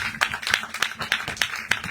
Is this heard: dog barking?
no